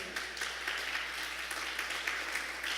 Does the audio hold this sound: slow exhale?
no